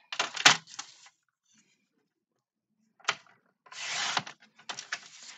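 A paper trimmer slices through scrapbooking paper in several short rasping strokes, a sharp cut near the start and longer sliding cuts later, close and fairly quiet with silent gaps between them.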